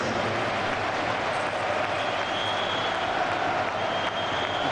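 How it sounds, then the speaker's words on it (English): Dortmund supporters in a football stadium at Hamburg applaud a player's substitution, a constant, broad roar of distant clapping and crowd noise with no pauses. "Applause from the Dortmund fans for Shinji Kagawa"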